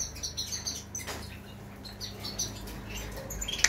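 Many small birds in an aviary chirping and tweeting at once, high and busy, with occasional wing flutters and soft rustling nearby.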